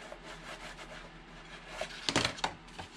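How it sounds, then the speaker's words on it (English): A paper gift box bottom is burnished with soft, close rubbing strokes, a few brief scraping swipes and light taps standing out in the second half. "And I'll burnish the bottom."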